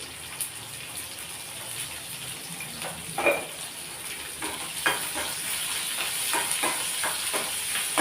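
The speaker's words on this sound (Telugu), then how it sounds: "ఇది లైట్గా ఫ్రై అవ్వాలి ఆనియన్స్ ఒక్క నిమిషం అంతే" Onions frying lightly in a pan on a home stove as broccoli and cauliflower fry is prepared, a steady soft sizzle with scattered stirring scrapes and clinks, close by and with no talk.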